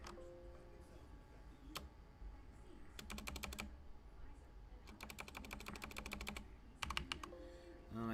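Keys clatter on a computer keyboard in quick, light bursts of typing separated by short pauses, close but quiet over a low room hum.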